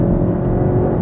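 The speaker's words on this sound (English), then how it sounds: "the engine does sound very raw and so willing." A Porsche Cayman GTS with a 4.0-litre flat-six drones loudly from inside the car, a raw, steady engine tone holding under load on slippery roads, with no talking.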